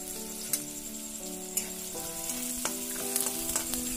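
Chopped onion frying in hot oil with curry leaves for a tempering for stuffed bitter gourd, giving a steady close sizzle with a few sharp spatula knocks against the pan and a faint tonal hum underneath.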